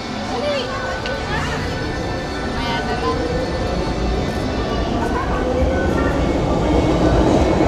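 Rolling rumble and steady rail hum heard from inside a train heading to Hong Kong Disneyland, continuous and fairly loud, with faint squeals and people talking in the carriage.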